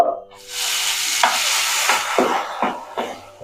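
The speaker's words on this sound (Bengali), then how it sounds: "সাবুটা দিয়ে ঘিয়ের সাথে একটু ভাজা ভাজা করে নেবো" Sago grains crackle and sizzle in hot ghee while a spoon scrapes and stirs the pan in several distinct strokes, close and fairly loud.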